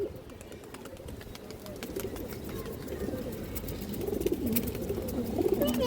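China Khaki pigeons cooing softly in a loft, low repeated coos rising slightly toward the end over a steady murmur of background noise.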